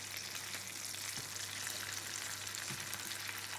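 Chicken pieces, seasoned with salt and pepper, sizzle steadily in a hot pan as the second side browns, a dense continuous crackle with no voices.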